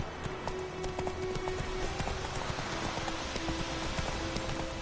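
Roach, a horse in a video game, gallops with quick, steady hoofbeats close by, keeping up an even rhythm throughout.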